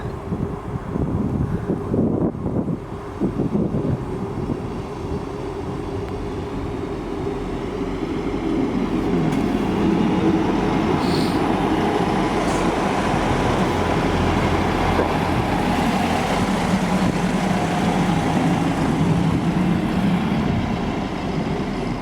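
A two-carriage Class 158 diesel unit arrives at South Gyle station, a low rumble that swells into a loud, steady engine and wheel roar with wind buffeting the microphone, and no voices heard.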